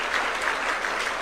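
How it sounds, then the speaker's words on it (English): A brief burst of dense crowd clapping at a political gathering in Murang'a, Kenya, steady and fairly loud with no voices over it. "Ladies and gentlemen, a Mohatia clap for Dr. James Mwangi."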